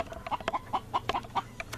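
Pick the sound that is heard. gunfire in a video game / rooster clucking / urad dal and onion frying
rooster clucking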